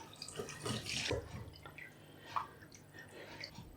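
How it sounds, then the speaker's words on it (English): Cooked chicken and leek soup vegetables being strained off the liquid, with soft pouring, splashing and dripping liquid sounds at low volume and a quiet kitchen background. "Now I want to strain the vegetables off, and we just want to keep the liquid."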